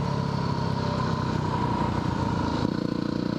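A Suzuki DR200SE motorcycle engine runs steadily at idle, a low throbbing rumble with a slight shift in tone near the end, loud and close.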